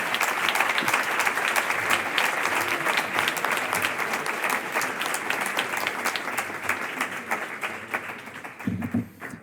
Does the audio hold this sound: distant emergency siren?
no